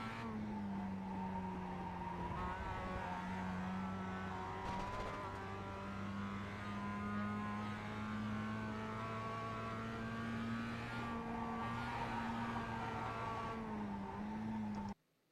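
A Mazda MX-5 race car engine in the iRacing simulator at Summit Point drones steadily, with pitch rising and falling through gear changes and throttle lifts, loud and continuous throughout with no talking.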